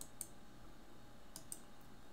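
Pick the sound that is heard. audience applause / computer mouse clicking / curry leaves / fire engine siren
computer mouse clicking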